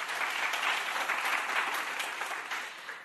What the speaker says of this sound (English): Ladies and gentlemen, one last applause, please, to our group.